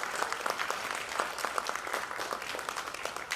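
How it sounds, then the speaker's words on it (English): An audience at a Bharatanatyam recital applauds the musicians, with dense, steady clapping from many hands that sounds soft and somewhat distant, and no talking over it. "So I'd like to give a round of applause to the musicians."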